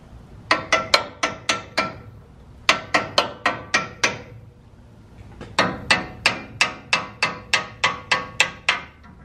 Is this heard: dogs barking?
no